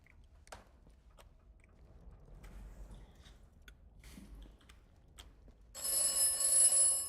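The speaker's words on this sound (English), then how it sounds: "My first phone call, and it's on the red phone in here." The red telephone in the video game Atomfall rings out after a few seconds of quiet with faint scattered clicks, its bright electronic bell trilling loudly near the end.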